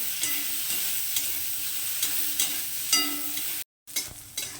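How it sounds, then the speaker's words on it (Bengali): Brinjal pieces, seasoned with salt and turmeric, fry in a pan with a steady close sizzle, broken by a few sharper stirring scrapes and a brief dropout near the end. "বেগুনটাকে প্রথমে আমি একটু লাল লাল করে ভেজে নেবো"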